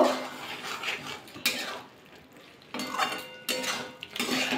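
Pui shak greens being mixed with a spoonful of mustard oil in a pan, bursts of clattering utensil scrapes against the metal separated by quieter pauses, close and without speech.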